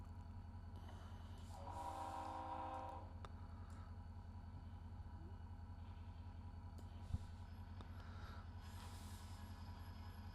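Diesel locomotive of the Australian Bulldog-nose design idling in the Trainz railway simulator game, a steady low engine drone throughout with a brief mid-range tone near the start and a single sharp click later.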